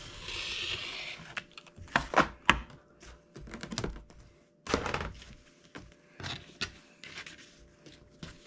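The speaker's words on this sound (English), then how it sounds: "I'm going to cut this down the middle" Rotary cutter slicing through quilt fabric on a cutting mat for a disappearing nine-patch block, heard as a series of close, crisp scraping cuts and soft thunks with short pauses between strokes.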